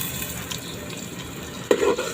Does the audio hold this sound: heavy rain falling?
no